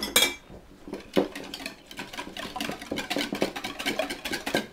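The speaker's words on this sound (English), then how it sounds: "now I'm just going to whisk that together" A whisk beating a Dijon mustard dressing with salt and pepper in a bowl, rapid scraping clinks in a quick irregular rhythm, close and continuous.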